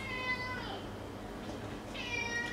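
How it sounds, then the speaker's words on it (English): A house cat meows twice in the background of a kitchen where risotto is being made, each call a clear, high, drawn-out tone, the second arriving after a short pause over a low room hum. "Excuse my cat in the background."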